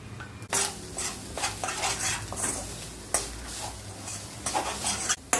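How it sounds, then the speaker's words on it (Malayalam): A spoon scrapes and clatters against a pan as chili powder and coconut are stirred for an egg thoran, with repeated sharp metallic scrapes over a low background sizzle, close by. "മുളക് പൊടിയും കൂടെ ഇട്ട് ഒന്ന് നന്നായിട്ട് ഇളക്കി അതൊന്ന് മൂത്ത് വന്നേ."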